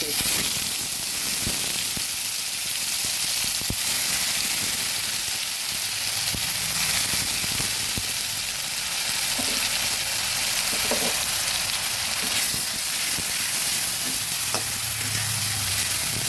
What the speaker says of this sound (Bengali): কালো জিরেটা কিছুটা ফুটে আসলে দিয়ে দেব পেঁয়াজ